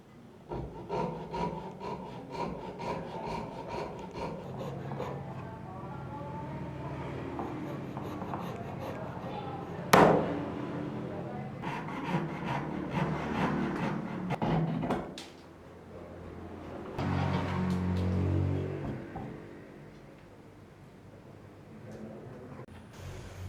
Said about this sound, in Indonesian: untuk bagian pemotong yang kurang rapi bisa dirapikan dengan menggunakan kikir